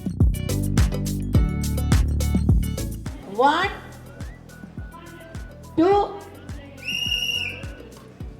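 Upbeat music and voices at a tapioca-chopping competition, then a few high, shrill whistle blasts starting the contest, the last one long and steady.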